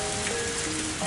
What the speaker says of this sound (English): It wasn't raining hard at all.